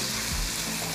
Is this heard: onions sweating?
yes